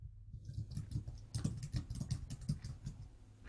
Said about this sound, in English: I hear people typing.